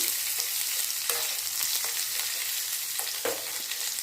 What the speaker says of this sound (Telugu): ఇలా కొబ్బరిని బాగా ఫ్రై చేసుకోవాలి కొబ్బరితో పాటు మిర్చి కూడా వేసేసి అవి కూడా ఫ్రై అయిపోతాయి